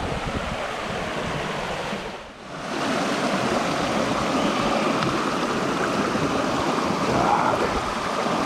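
A mountain stream in the Carpathians, slightly muddy after rain, rushes and burbles steadily nearby while a bottle is filled, with a brief dip in the flow partway through and no talking.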